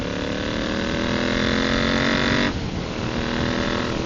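Royal Enfield motorcycle fitted with a DNA performance air filter, making a steady loud engine drone during a 4,000 RPM roll-on, with the pitch and tone shifting abruptly partway through, and no talking.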